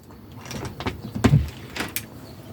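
A bathroom door opening inside a 4x4 Mercedes Sprinter camper van with a full wet bath: a close, brief mechanical slide and latch clunk, followed by a soft rattle, with no talking.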